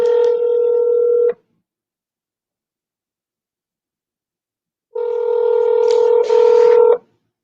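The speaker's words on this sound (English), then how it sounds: "We're just going to dial and smile." Telephone dialing tones: a short burst of steady keypad beeps, then a pause, then a second, longer run of tones whose pitch changes partway through. The tones are loud and clear with no talking.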